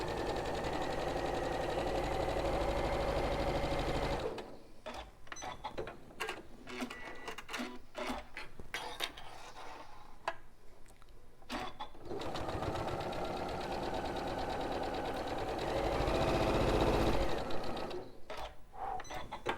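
A sewing machine stitching quilt pieces for a half-square-triangle quilt, running in loud steady bursts at the start and near the end, with choppy stop-start stitching and handling noises in between.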